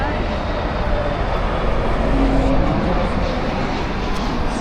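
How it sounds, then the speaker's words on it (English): An airplane passes at Heathrow airport, a loud, broad jet roar that holds steady throughout, heard close alongside wind and background noise. "Another plane here."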